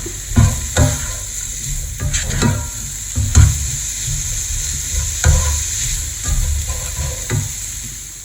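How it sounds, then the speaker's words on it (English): Tomatoes seasoned with cumin and paprika frying in a pan, with a steady close sizzle and repeated scraping stirs of a utensil against the pan at irregular intervals, no talking. "I've got to add the cumin and the paprika. Stir that in and then let that cook."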